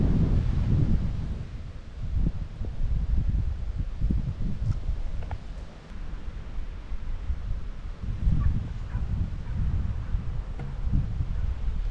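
Steady wind blows across an open Baltic coast disc golf course, rumbling low and buffeting the microphone in a continuous gusty roar for the whole stretch, with faint rustling and no talking.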